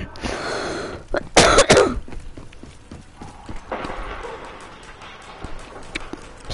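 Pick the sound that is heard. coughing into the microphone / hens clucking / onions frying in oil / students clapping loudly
coughing into the microphone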